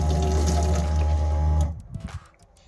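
A tap runs into a deep stainless steel sink inside a 2016 Citroën Jumpy camper van, a loud steady gush of water that stops abruptly partway through, leaving a few faint drips and clicks.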